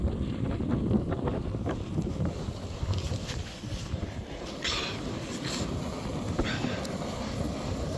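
Wind gusts across an open Dartmoor moor near Yes Tor, making a constant low rumble and buffeting against the microphone, with a few brief rustles and no voices.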